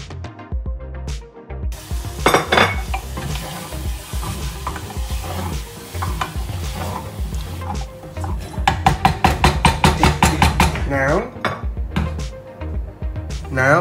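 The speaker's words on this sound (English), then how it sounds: "Let it simmer. And then you add mango." Sea bream with mango simmering in a pan with soy sauce, loud stirring and scraping with clattering utensil knocks against the pan over a bubbling sizzle, busy and close.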